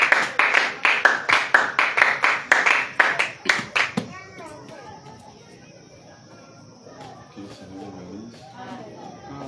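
A church congregation clapping in rhythm, sharp regular claps close and loud for about four seconds, then stopping abruptly into low murmuring chatter and a steady hum.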